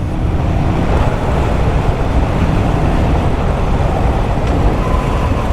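A 1984 Harley-Davidson FLT Tour Glide cruises down the highway in third gear at low revs, its steady, loud engine rumble blended with constant wind roar and no voices.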